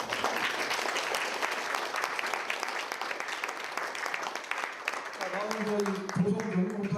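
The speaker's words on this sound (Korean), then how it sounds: "저자님께 큰 박수 한번 보내주시죠" Audience applause at a book launch event in Toronto, a steady wash of clapping from a seated crowd, fairly quiet, with a voice starting to speak over it near the end.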